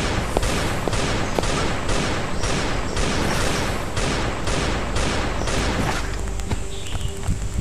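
Rapid gunfire from the survival game Last Day on Earth: Survival, a loud regular burst of evenly spaced shots that stops abruptly near the end, leaving quieter game ambience.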